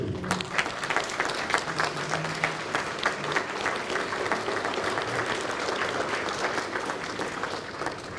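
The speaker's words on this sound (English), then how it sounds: "Can we all stand up and give a round of applause for our special" A standing audience applauds special guests at a retiring teachers' function, with many hands clapping in a steady, lively patter that holds for several seconds. Faint talk mixes in near the start.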